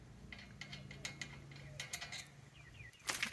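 Brake caliper screws on the front brakes of a 2007 Chevy Avalanche are worked loose with a cheater bar, giving scattered faint metallic clicks and ratcheting snaps over a low background hum, with a sharper clack near the end.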